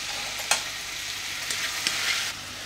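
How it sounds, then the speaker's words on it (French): Ingredients sauté gently in olive oil with a close, steady sizzle and hiss that holds throughout, broken by a few sharp clicks and stirring knocks. No voice is heard. "que l'on va faire revenir doucement dans l'huile d'olive"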